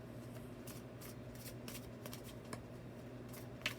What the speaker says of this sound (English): Did y'all see how like many cards I had trying to shuffle them together?